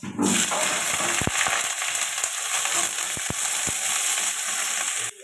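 Onion frying in hot oil with nigella seeds, a close, steady sizzle punctuated by several sharp spatula clacks against the pan, then stopping abruptly.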